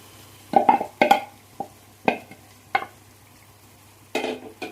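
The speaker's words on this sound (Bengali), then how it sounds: "এবার আমি মাটনটা দিয়ে দিলাম।" Mutton being stirred into a frying spice paste in a pan, sharp bursts of sizzling and scraping that come in irregular clusters, with quieter frying between, close and fairly loud, no voices.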